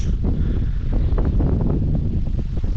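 Strong storm wind in a village roars and buffets the microphone continuously, a loud, dense rumble with gusting swells throughout.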